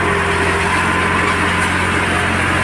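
Tractor engine running steadily while mowing a crooked, sloped meadow, a continuous loud drone with a low harmonic hum and no breaks, up close.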